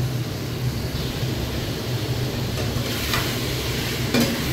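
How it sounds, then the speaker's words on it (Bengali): Meat and two large potatoes fry in a pan, a steady close sizzle with soft stirring scrapes, no talking. "আলুটা মোটামুটি একটু ভাজা হয়ে গেছে"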